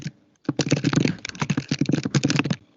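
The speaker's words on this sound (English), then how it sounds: "Someone's typing." Someone types fast on a computer keyboard nearby, a dense run of crisp clicking keystrokes starting after a short quiet moment and continuing to the end, with no talking.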